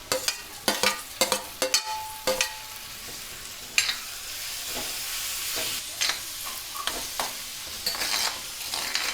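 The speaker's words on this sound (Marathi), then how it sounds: "आता टॅमॅटो सुद्धा मऊ होईपर्यंत जरा शिजून घेऊया" Tomatoes cook with dried shrimp, onion and red chilli powder in a pan, giving a low sizzle under a run of quick, rhythmic spatula scrapes and knocks that slow and thin out later.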